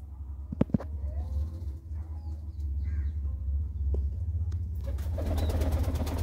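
Breeder pigeons in a loft coo in low, steady murmurs, with a couple of sharp knocks early on and a rising flutter of activity near the end.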